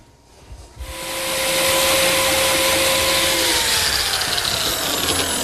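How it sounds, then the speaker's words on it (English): A biscuit joiner cuts slots for number 0 biscuits in walnut miter joints, its motor spinning up after a brief quiet start into a loud, steady whine with a bright hiss that holds to the end. "I'm cutting slots for these number 0 biscuits"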